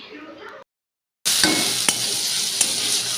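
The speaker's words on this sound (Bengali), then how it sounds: "তো আলু ভাজা বসিয়েছি একটু ঝাল ঝাল করে করব" Potatoes fry in a pan with a bright, steady sizzle heard close up. A soft earlier snippet is followed by a brief silence before the frying starts, and a couple of sharp utensil clicks break through the hiss.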